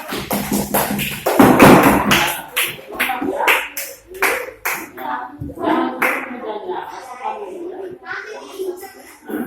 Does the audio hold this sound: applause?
yes